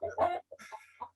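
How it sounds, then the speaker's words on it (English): Chickens cluck close by in a quick burst of short, throaty calls followed by a few scattered clucks, clear and alone without talk. "I have chickens."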